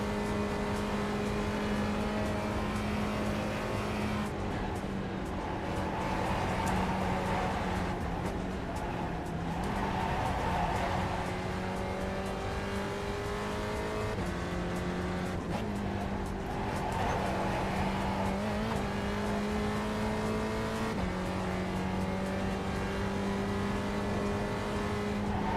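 A 1960s race car laps the Nordschleife in a racing sim, its engine droning steadily and rising through the gears with shifts every few seconds, loud and continuous with faint tire noise and no talk.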